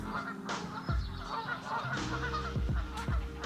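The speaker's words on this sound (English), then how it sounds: "The geese are making lots of noises." Several geese honk in quick, overlapping bursts nearby, loud and insistent calls repeating over a low outdoor background, with no talking.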